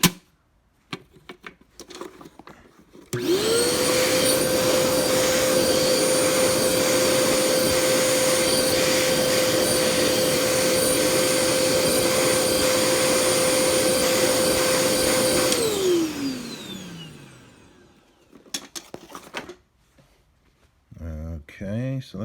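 A Hoover Portapower CH30000 vacuum cleaner switches on near the microphone and runs with a loud, steady whine and rushing suction, then winds down in a falling tone; people talk before and after it runs.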